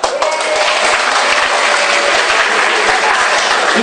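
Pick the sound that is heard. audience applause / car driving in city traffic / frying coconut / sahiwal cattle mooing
audience applause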